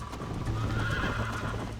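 A horse in the Red Dead Redemption video game whinnies loudly and steadily over a continuous clatter of hooves, with no voices present.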